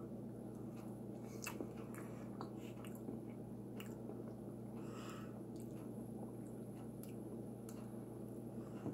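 Close, quiet biting and chewing of Taco Bell loaded nacho fries with steak, sour cream and truffle sauce, with soft wet squishy mouth sounds and crunches spread over a steady low background hum.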